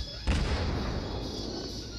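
Ship cannon fire in a naval video game, a single heavy boom with a deep low thump, followed by a long rumbling decay, loud and close.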